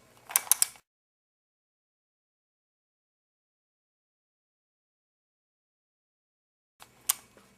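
A Rubik's cube face twisted counterclockwise gives two short bursts of plastic clicking and rattling, one at the start and one near the end, with near silence between.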